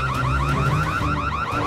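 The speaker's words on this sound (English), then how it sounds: "Where's this alarm coming from?" Cartoon alarm blaring in a 3D animated adventure, a loud, continuous warbling electronic wail cycling rapidly up and down, heard alone without talk.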